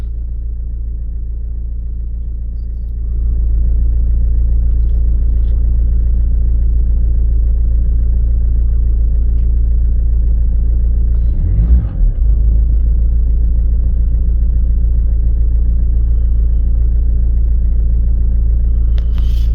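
An Alfa Romeo 1.9 turbo diesel GTD engine rumbles steadily at close range. A low, loud, even drone swells in after a quieter start and holds with a brief irregular bump near the middle.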